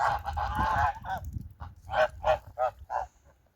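Domestic geese honk loudly and close by, a dense burst of calls followed by several separate, rhythmic honks spaced about a third of a second apart.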